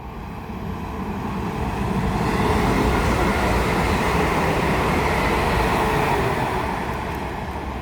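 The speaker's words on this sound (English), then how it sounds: "past 3 now is going to be a pair of London North Western Railway Class 350s going from London Euston to" A pair of London Northwestern Railway Class 350 electric trains rushes past on the West Coast Main Line at Tring, a loud, broad roar that swells quickly, holds for several seconds, then eases slightly.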